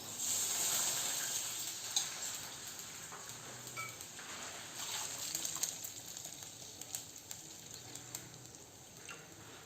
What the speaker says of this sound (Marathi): आता मी त्याच्यामध्ये आहे ना पाणी टाकते बघा